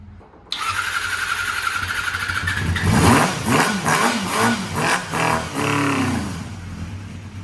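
A barn-found Honda MC19 CBR250RR four-cylinder motorcycle fires up after 18 years idle, a starter whir catching into a loud, close engine that revs up and down in several rising and falling blips.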